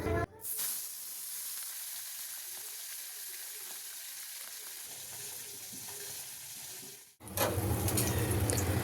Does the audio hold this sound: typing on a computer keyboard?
no